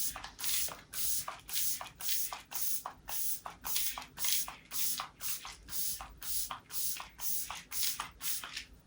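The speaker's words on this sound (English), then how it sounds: "I'm just going to go in with my Revolution setting spray." Repeated pump bursts of Revolution Coconut Restore setting spray, about fifteen short, crisp hissing mists in a steady rhythm, close and fairly loud, with no talking.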